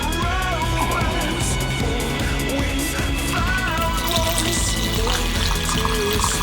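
Petite Sirah red wine pours into a glass, a steady liquid splash and trickle heard close up alongside faint background music.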